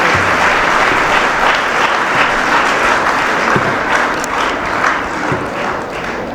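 Loud applause for teachers and students at a residential public school ceremony honouring SSLC toppers: a full, dense crowd of clapping hands that stays strong throughout with only a slight easing toward the end.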